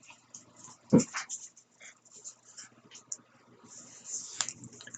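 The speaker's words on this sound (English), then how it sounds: "This is the small Chihuahua." A small Chihuahua whimpers and whines in soft, high, intermittent cries, with a brief louder yelp near the start and faint breathing between, close by and fairly quiet.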